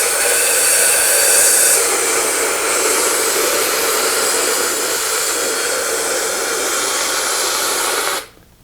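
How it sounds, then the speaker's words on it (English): A Cryonite system spraying carbon dioxide snow for pest treatment, a loud steady hissing blast held for about eight seconds before cutting off abruptly, close and alone with no talking. "Then you take the Cryonite system and you apply the Cryonite as we showed before."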